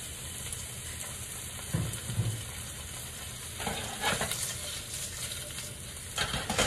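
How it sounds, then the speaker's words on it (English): Sausages sizzle in an oiled skillet with a soft, steady frying hiss, broken by a few louder crackles and scrapes as they are moved around the pan; no one speaks. "we're gonna go ahead and drop in our sausages"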